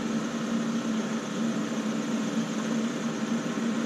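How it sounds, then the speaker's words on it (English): A Volvo car engine idles with a steady, even low hum and a constant drone, unchanging throughout and heard alone without any talking. "you can see the engine started"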